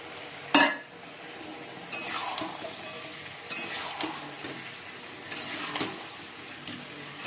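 Fried chicken pieces are stirred into a sauce in a frying pan, a steady sizzle broken by scraping stirs and the clink of a spatula against the pan, close and continuous with no talking.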